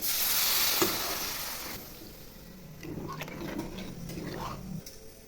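Water poured into potatoes and yogurt masala frying in a pan gives a loud hissing burst that fades into quieter sizzling and stirring.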